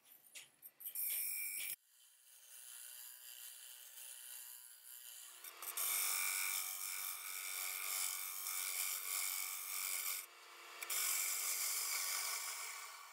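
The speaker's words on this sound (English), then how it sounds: "Then I'll finish it off with a 3/4 round negative rake scraper." A 3/4 round negative rake scraper cutting the inside of a wooden bowl on a lathe, a steady close hissing scrape that starts and stops with short pauses between passes.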